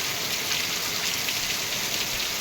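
Heavy rain pours down steadily in a village, a dense, even hiss of drops hitting surfaces with no breaks and no voices.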